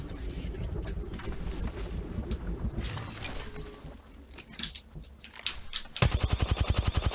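Rapid automatic gunfire in the Apex Legends video game during a ranked arena match, a loud dense burst of evenly spaced shots near the end, following busy game noise and effects.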